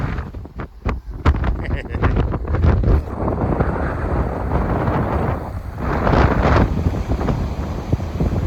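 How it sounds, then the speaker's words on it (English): Heavy wind buffets the microphone throughout on a seashore, a loud rumbling roar with gusty surges and a few sharp knocks. "I wasn't going to come today because it was too windy. I hate it when it's windy."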